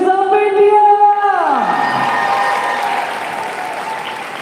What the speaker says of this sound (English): let us give a big round of applause from the delegations of India!